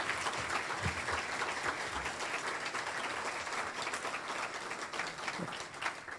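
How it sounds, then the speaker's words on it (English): An audience at a Kiwanis Patriots Day luncheon applauds steadily for about six seconds. The dense, even clapping from a room full of people sounds moderately distant and continues without speech. "Let's give them a round of applause as well."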